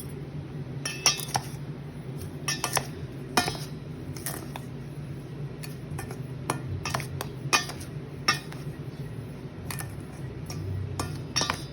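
Corn meal, glutinous rice and salt are stirred together in a bowl for suman. A utensil scrapes and clinks against the bowl in a steady, uneven rhythm, close and moderately loud, with no talking.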